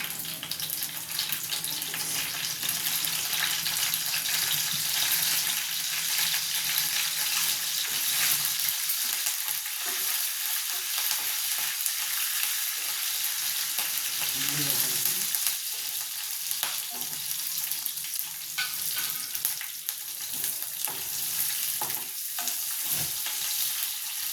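Cumin, mustard seeds and curry leaves sizzle steadily in hot oil for tomato rasam, a dense continuous crackle with occasional stirring and clinks, close and fairly loud throughout with no voices.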